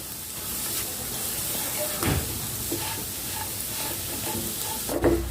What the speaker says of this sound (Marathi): आपल्याला हे बदामी कलरचं होईस्तवर छान भाजून घ्यायचं आहे लागेल तसं थोडं थोडं तूप घालायचं आहे यात